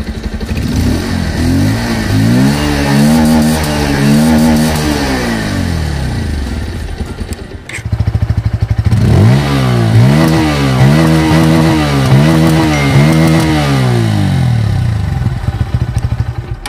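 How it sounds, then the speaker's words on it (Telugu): Bajaj Pulsar N150 and Pulsar 150 motorcycles idle and rev loudly up close, each engine climbing and falling in several revs; one exhaust runs, a short break follows, then the other starts with a deeper throb and more revs. "వీటి యొక్క ఎగ్జాస్ట్ నోట్ ఒకసారి వినిపిస్తాను"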